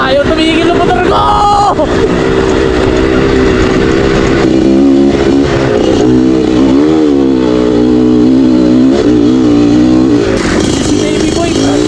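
A trail motorcycle engine revs loudly and steadily up close, its pitch rising and dipping through gear changes, with people talking and cheering over it on a trail ride.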